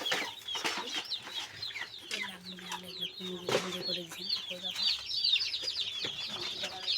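Thirty-two newly bought broiler chicken chicks clucking and cheeping in a busy chorus of overlapping calls, close by, with a voice talking quietly in the background at times.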